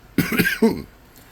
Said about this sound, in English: Coughing and gagging already.